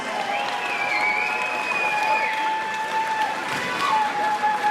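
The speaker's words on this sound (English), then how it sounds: "how about a round of applause for our final fight of the night" Sustained crowd applause with cheering and whistles from a fight-night audience after the final bout, a dense steady roar of clapping throughout.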